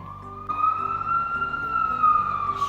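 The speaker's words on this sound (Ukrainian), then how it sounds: "це пожежна машина." A fire engine siren wails steadily with a high, slowly bending tone, heard at moderate distance over a low rumbling background.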